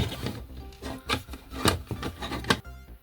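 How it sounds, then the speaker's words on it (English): Plastic parts of an Iron Spider model kit being screwed together, close and fairly quiet, with short scraping, rubbing twists in an uneven rhythm of about a dozen small strokes and no talking. "Now the fun part, trying to hold this together while screwing it in."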